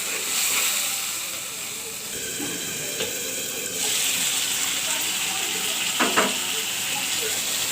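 Ground turmeric, chili, coriander and salt sautéing in a pan give a steady close sizzle and hiss, broken by occasional stirring knocks and scrapes against the pan.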